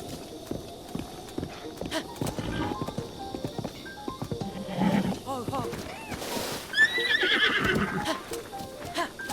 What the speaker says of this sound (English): So when you first tame a horse, they don't like to listen to you